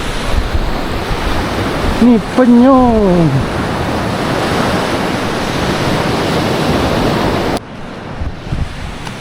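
Ocean waves wash onto Kuantan beach in a continuous loud roar of surf mixed with gusting wind on the microphone, with a brief voice speaking over it early on.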